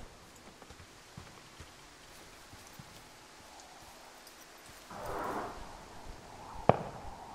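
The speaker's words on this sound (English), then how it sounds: "Where are the fireworks?" Distant fireworks in the game Firewatch: faint ambient quiet broken by a muffled burst of rumbling pops, then a single sharper crack.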